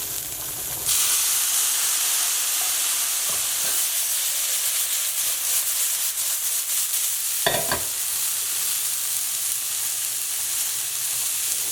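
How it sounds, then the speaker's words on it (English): Food being tossed in a hot pan after balsamic vinegar goes in, a steady sizzle and hiss from start to finish with a brief louder clatter near the end; no talk. "So next we're going to put half the balsamic vinegar and toss."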